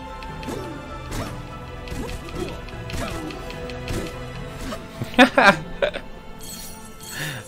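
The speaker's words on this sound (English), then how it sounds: "Dude's throwing Molotovs and shooting crossbow bolts at me." Molotov cocktails shattering and crossbow bolts striking in the dark fantasy game Vigil: The Longest Night, a cluster of sharp glassy crashes and clinks near the middle, with someone talking over the action throughout.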